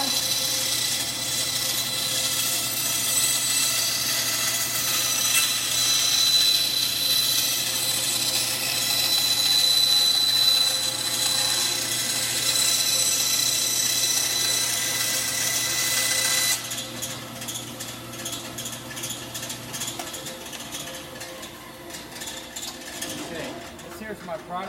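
A band saw cuts through wood with a steady, loud mechanical whine and hum. Partway through, the sound changes to a rougher, lower running noise as the cut ends.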